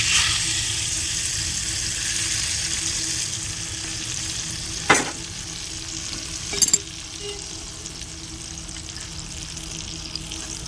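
Mustard seeds and curry leaves crackle in hot oil for a raw mango chutney tempering, a steady close sizzle broken by a couple of sharper pops.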